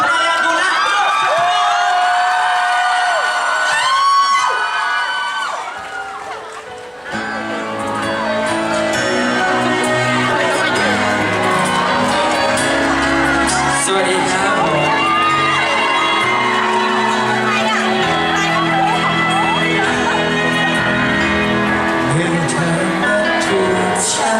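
A crowd at a blood donation volunteer event cheers, whoops and shouts in welcome, a loud sustained roar that swells after a brief lull and carries on with music and voices underneath.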